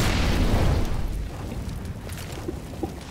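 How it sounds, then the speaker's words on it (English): A grenade blasts in the CS:GO video game, opening with a heavy deep boom that decays into a rumbling tail over a few seconds, followed by a few faint scattered pops. "Throwing grenade."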